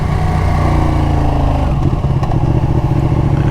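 A 2019 Ducati 959 motorcycle drones loud and close while being ridden. The engine holds a steady, dense note, then dips as the rider shifts partway through, and heavy wind rush fills the background.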